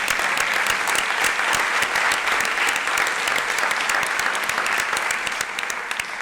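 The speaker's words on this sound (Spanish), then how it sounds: "un aplauso, por favor." A roomful of people at a talk held for the Freedom Flotilla boat Handala clap together in dense, sustained applause, loud and even throughout.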